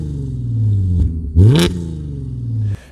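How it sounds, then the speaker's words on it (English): A 2013 Audi S4 with a real quad-tailpipe exhaust idles, then its engine blips up in a sharp, loud rev around the middle and settles back to a steady idle, heard close with no talking. "The S4 back then in 2013, even today, you have real quad exhaust tailpipes and they sound pretty good."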